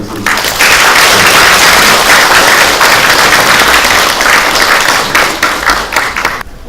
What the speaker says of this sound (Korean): 여러분 원 교수님을 뜨거운 박수 모시겠습니다